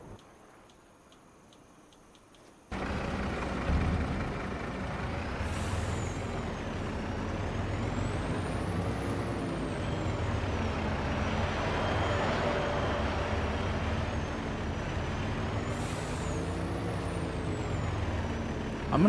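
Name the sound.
truck engine and air brakes in Farming Simulator 25 video game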